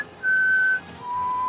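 A person whistles two sustained tones in a row, the first held higher and the second lower, clear and close with no talk, during an Ultimate Quad video game battle tournament.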